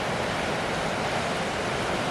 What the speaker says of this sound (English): there's like some cool rapids over there